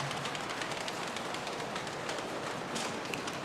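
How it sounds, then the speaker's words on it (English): A group of people patting their thighs as part of a body-percussion rainstorm, a dense, continuous rustling patter of many soft hits blending into a wash, moderately loud with no talk. "And now pat your thighs."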